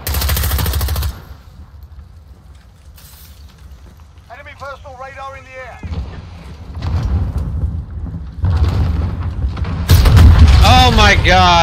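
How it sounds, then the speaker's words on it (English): Explosions and gunfire in a Call of Duty Modern Warfare hardcore team deathmatch on the Crash map, with heavy booms at the start and end around quieter stretches, mixed with game voices and effects. "the fucking dude shot an RPG into the building"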